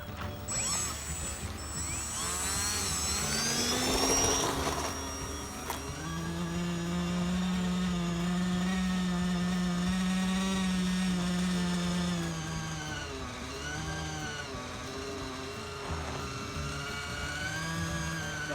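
Electric motors of an RC flying wing and an RC trainer airplane whine and drone overhead, pitch rising and falling as they pass, with one motor holding a steady buzz for several seconds; no talking.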